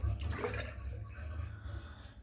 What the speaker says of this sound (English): I'm just rinsing the soap out now